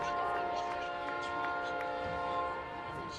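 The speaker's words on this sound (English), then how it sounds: "The sound you just heard was a train horn." A distant train horn sounds in sustained tones from a nearby railroad track over a murmur of crowd noise and background chatter at a men's soccer game.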